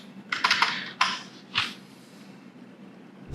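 A username is typed on a computer keyboard, producing a few sharp, close clicks in short bursts followed by quieter pauses, with no speech over it.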